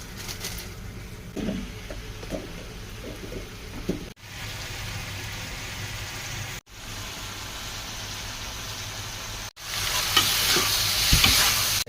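Chicken with pepper powder and lemon juice stir-fried in a pan for Andhra-style chilli chicken: a continuous close sizzle with repeated spatula scrapes and taps, cut into short sections, the hiss growing louder toward the end.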